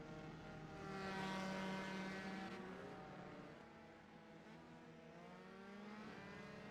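A lone race car laps the New Hampshire road course in a racing video game, its engine droning with shifting, rising and falling pitch as it swells closer and then eases off, with no voices over it.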